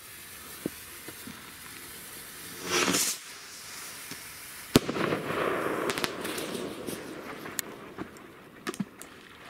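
A burning firework fuse hisses in a loud, steady sizzling burst for about a second, then scattered sharp cracks and pops follow with some crackling outdoor noise, at close range.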